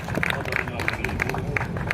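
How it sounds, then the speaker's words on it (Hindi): Audience at a Republic Day celebration at a medical store clapping for a singer named Yogi, steady scattered hand claps blending into a crowd murmur, moderately close. "एक बार योगी जी के लिए जोरदार तालियां हो जाए"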